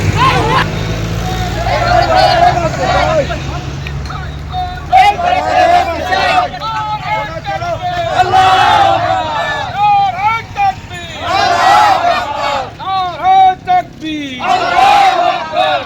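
A street protest procession in Amdanga passes by: a dense crowd loudly chants slogans in rhythmic call-and-response bursts, with a low traffic rumble underneath and voices throughout.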